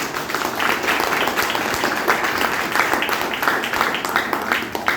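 An audience at a health awareness program in Vastral, Ahmedabad claps for the MD, a dense, sustained burst of many hands applauding together for several seconds.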